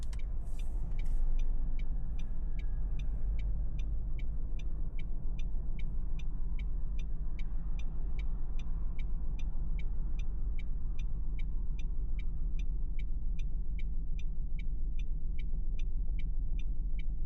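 A car's engine idles and rumbles steadily under a regular ticking turn signal during a driving lesson near Rungis. There is no clear surge of pulling away.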